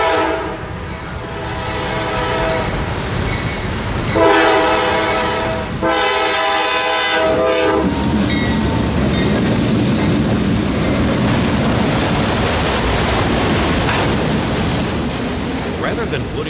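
A CSX freight train, Q251 heading north, sounds long horn blasts in the first seconds, then rolls past with a loud continuous rumble and clatter of wagons close by.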